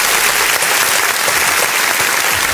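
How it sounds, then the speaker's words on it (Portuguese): An audience breaks into loud, dense applause at a talk about sustainability in the interior of São Paulo, a continuous wash of clapping that fills the whole moment. "Uma salva de palmas para vocês."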